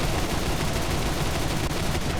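Aircraft cannon and machine guns on a Do.335B-2 in War Thunder fire in one continuous, dense, loud burst that hammers steadily for the whole stretch, with no voices.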